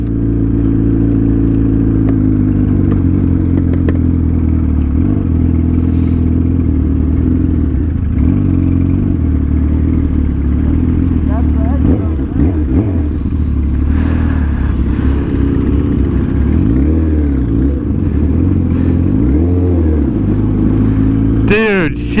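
A Yamaha R1 sport motorcycle pulls away and rides off, its engine loud and close, idling and then revving in rising and falling sweeps, with mechanical clatter underneath and a short sharp noise near the end.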